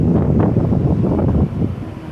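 Strong wind buffets the microphone with a steady low roar, and surf rumbles underneath, loud and close throughout.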